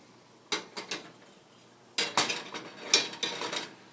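Beeswax being stirred as it melts in a pot for homemade natural deodorant: a few scattered scraping, clinking strokes, then a denser cluster of close scrapes and knocks, with no talking.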